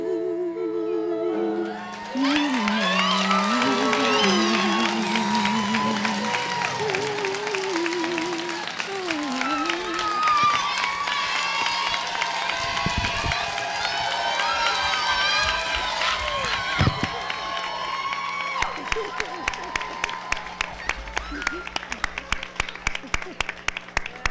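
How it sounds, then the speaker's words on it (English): Sustained applause from a crowd at a 2022 graduation ceremony at Creators Academy, dense clapping and some cheering lasting over twenty seconds, with a voice talking over it early on and the clapping thinning into separate claps at the end. "Please, another round of applause."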